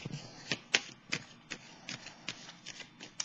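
Tarot cards shuffled and drawn from a deck, a run of crisp papery flicks and riffles in an uneven rhythm, close and quiet with no voice.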